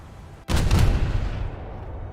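A Moskva-class ship detonation and naval gunfire in a naval video game with Russian cruisers: one sudden heavy boom after a near-silent moment, followed by a long rumbling decay that fades out.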